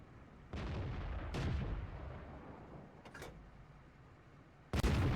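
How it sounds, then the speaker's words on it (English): Tank cannon shots in World of Tanks, with a broadband boom near the start and several more firing blasts through the clip, the last and loudest at the end over a steady rumbling battle background. "The next shot is aimed a little better and it tracks the T-64."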